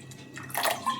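Hot water from a flask being poured into a curry, a short splashing pour that swells in the middle and tapers off, close and alone.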